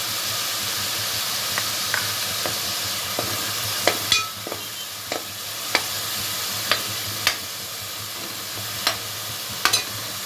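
Onion paste and green chillies fry in a pan with a steady, close sizzle, broken by occasional sharp clicks of a spoon stirring against the pan, and no talking.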